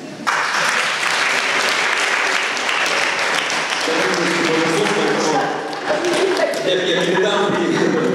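An auditorium audience at a university talk breaks into sustained applause, loud and dense from start to finish, with a shift in texture partway through as clapping continues.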